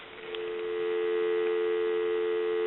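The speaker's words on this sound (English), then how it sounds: "I'm going to give you some dial tone." A steady telephone dial tone from a GE 25881EC A telephone hums continuously and fairly loud, with no other sounds.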